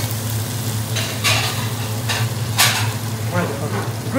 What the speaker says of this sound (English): So I'm adding the 3 onions and a small green and a red pepper.